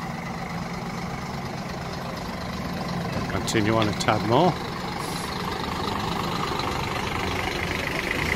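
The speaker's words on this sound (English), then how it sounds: "Sorry about the bus noise, folks." A bus engine idles nearby with a steady low rumble on an evening street in Playa de las Américas, Tenerife, while someone talks briefly over it.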